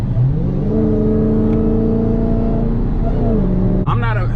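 A supercharged car engine with a cold air intake revs up to a steady, tonal supercharger whine, holds, then drops off with a brief whooshing release; loud and close.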